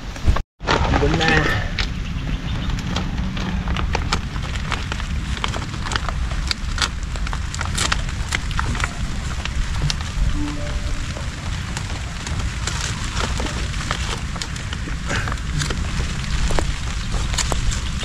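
Light drizzle during Typhoon Pepito patters steadily on nearby surfaces, a continuous hiss with scattered drop taps and occasional voices talking in the background.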